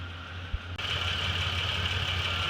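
A 2005 Chevy Equinox being diagnosed for a no-start fault catches with a brief click and then settles into a steady, close idle with a constant hum and whine.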